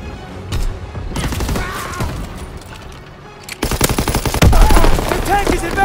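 Call of Duty: WWII battle gunfire: sustained machine-gun rattle and scattered rifle shots, loud and close, swelling into heavier bursts and a thudding impact near the end, with shouted voices mixed in.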